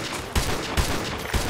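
Gunfire in the video game Call of Duty Modern Warfare 2, a steady clatter of rapid shots punctuated by three heavier, punchier bursts, loud and close with no voices.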